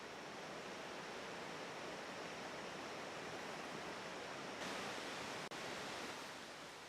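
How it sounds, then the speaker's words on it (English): Small mountain stream running over a rocky incline in Letchworth State Park, a steady close broadband rush of water that swells slightly louder near the end, with no voices. "the sound of running water is heard close by"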